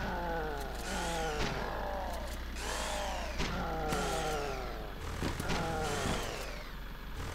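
A saw mounted on the front of a car cutting through zombies in a zombie car video game, a buzzing power-tool whine that rises and falls repeatedly over a steady engine drone, moderately quiet.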